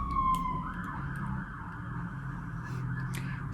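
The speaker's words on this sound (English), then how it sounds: "Sirens ruining my videos yet again." Emergency sirens wail and sweep in pitch outside while passing by, heard through a steady background rumble with no talking.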